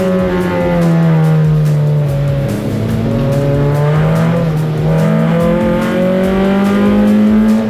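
Race cars run a hot lap on a wet track in Australian grassroots racing, an engine roaring loud and close with steady rising and falling revs through gear changes, without a break.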